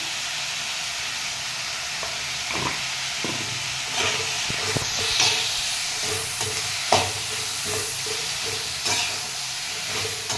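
Food sautés with turmeric in a pan, giving a steady loud hiss of steam and sizzle with occasional soft spoon scrapes and knocks.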